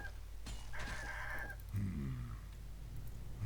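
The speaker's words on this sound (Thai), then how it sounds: "เอ้ยแต่ไก่แม่งเยอะจังเว้ย" Chickens cluck in Warcraft 3 Reforged: a few short, close fowl calls and clucks over a low game ambience, with no talking.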